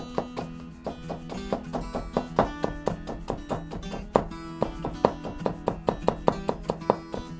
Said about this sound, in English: Then line up the slices and cut them into strips.